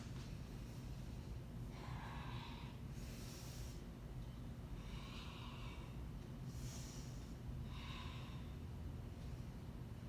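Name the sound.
yoga breathing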